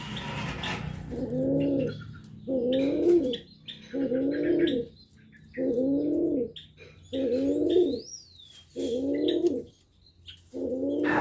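A male pigeon from a pigeon and turtle dove cross coos in about seven steady, evenly spaced phrases, close and clear, with faint chirps in the pauses.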